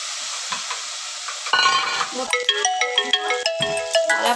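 Onions and tomatoes fry in a pan while being stirred, giving a soft sizzle and scraping. A loud electronic ringtone-like melody joins partway through and plays over the cooking.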